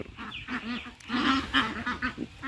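A flock of desi ducks on a farm in Assam quacks and honks in overlapping, uneven bursts, close by and fairly loud.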